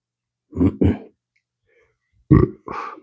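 Someone burps after eating ghost pepper chocolate, with two short close bursts followed after a pause by two more throaty, burp-like grunts.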